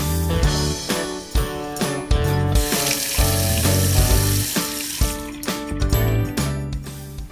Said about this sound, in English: Turn the water supply back on, then test it out.